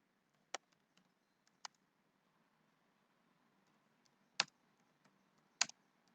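A few sharp, sparse clicks of individual computer keyboard key presses, quiet and separated by long pauses in an otherwise still room.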